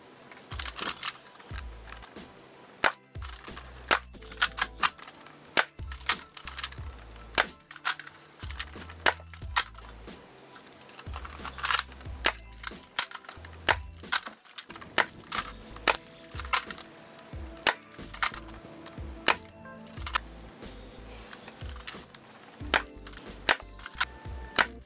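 A Buzz Bee Predator dart blaster fires repeatedly through a chronograph, each shot a sharp snapping pop amid clicks and clatter of priming and reloading, close and irregular across the whole stretch.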